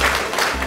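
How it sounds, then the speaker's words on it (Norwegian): Applause and crowd noise from participants gathered at the start of the Salomon Xreid Hardangervidda race at Dyranytt, a short dense burst of clapping that holds steady, close and loud. "Give me some applause."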